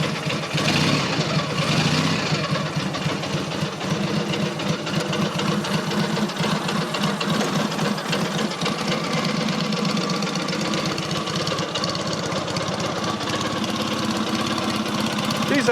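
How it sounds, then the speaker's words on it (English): Matchless G11 classic motorcycle engine running steadily from a cold start, a dense continuous mechanical drone with rapid ticking, held at a fairly constant loud level throughout. "Tick over is always a bit slow when they're cold,"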